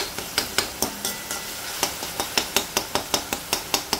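Peas ragada masala fries in a pan with a soft sizzle under regular sharp taps of a spoon against the pan, quickening into an even rhythm in the second half, no talking.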